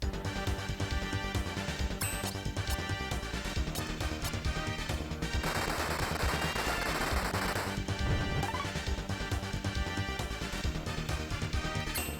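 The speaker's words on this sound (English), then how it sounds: "He has a Gatling gun." Gatling gun firing in the game Live A Live, a dense, continuous rattle of rapid shots over loud game music and a crashing impact, steady and busy throughout with no pauses.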